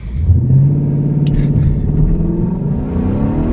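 A 2015 Mustang with a 6R80 automatic is floored against a transbrake, its engine holding a loud, strained rev that drones steadily and rises slightly in pitch for several seconds, close and without talk.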